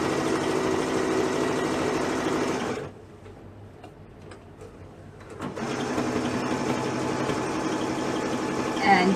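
A sewing machine stitches through thick layers of baby rag quilt fabric, a steady near whir that stops for a few seconds mid-way and then resumes.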